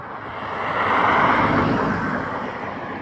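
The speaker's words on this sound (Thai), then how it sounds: "ขออภัยในเสียงรถวิ่งผ่านนะครับ" A car passes by on a nearby paved road beside rice fields, its broad rushing noise swelling and then fading slightly, with no talking.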